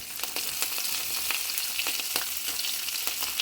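Mixed vegetables dropped into a pan of cumin and cashews, frying with a continuous bright sizzle and occasional stirring taps, close and steady without talk.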